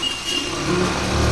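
Car passing on a road, a steady broadband engine and tyre rumble that swells slightly as it goes by, fairly close and continuous with no talk.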